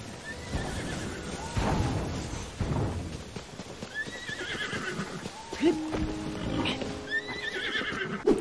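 Horses neigh and whinny repeatedly in The Legend of Zelda: Tears of the Kingdom, several rising calls over clip-clopping hooves and game ambience, fairly close and clear.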